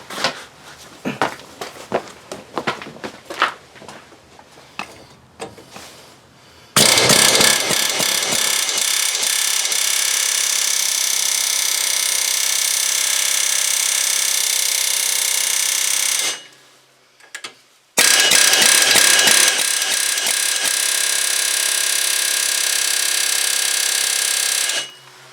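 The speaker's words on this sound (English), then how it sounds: "Guess it's time to work on her with the air hammer." Air hammer driving a chisel bit against a seized wheel hub, a loud sustained rapid hammering burst running about ten seconds, a brief pause, then a second long burst, preceded by lighter scattered clanks and handling noises.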